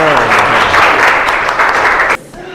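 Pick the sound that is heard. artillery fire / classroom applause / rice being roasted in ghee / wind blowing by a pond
classroom applause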